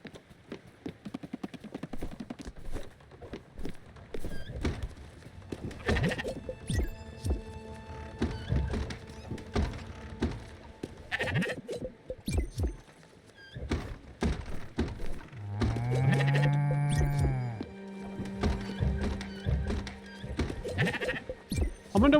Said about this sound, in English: Hang on, let's take care of the bloody sheep.